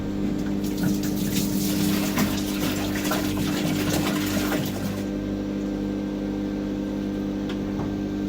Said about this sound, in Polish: I teraz co zrobię, to wleję, wleję wodę, którą mam e, przyszykowaną